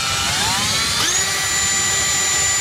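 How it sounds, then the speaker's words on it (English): A step drill cuts a hole in a car's front bezel, a steady high-pitched whine with a continuous grinding buzz that shifts in pitch partway through as the bit bites into the plastic, close and loud. "he gonna hit it with the step drill"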